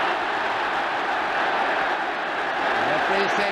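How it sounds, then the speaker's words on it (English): A large football stadium crowd at a 1968 European Cup final roars and cheers steadily, a dense, continuous wall of noise from many voices with no break. "The crowd cheering that decision."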